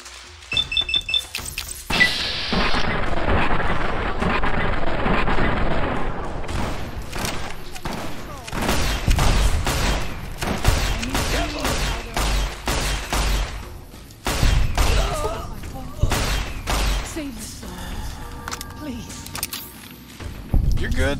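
Trail carbine gunfire in Fallout: New Vegas, a dense run of sharp shots and thuds through most of the stretch, loud and close, with brief pauses and some game speech mixed in.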